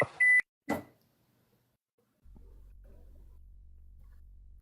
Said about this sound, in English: Why am I listening to beeping?